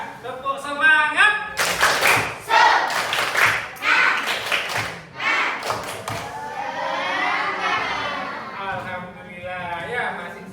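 Schoolchildren in a classroom perform a rhythmic Indonesian 'tepuk semangat' clapping chant, with bursts of patterned claps mixed with their chanting voices, then settling into group vocalizing.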